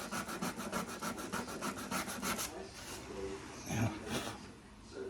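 A plastic BMW Z1 body panel is rubbed down by hand with rapid, rhythmic rasping strokes, close and moderately quiet, which then slow into a few scattered scrapes and brief pauses.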